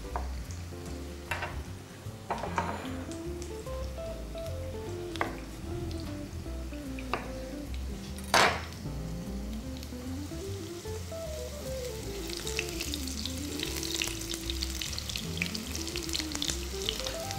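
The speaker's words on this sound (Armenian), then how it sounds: "Հիմա դդմիկները կտապակենք և կանցնենք սնկին։" Zucchini slices frying in oil in a pan, a steady crackling sizzle with occasional utensil taps and a brief sharp clatter, tonal music running underneath throughout.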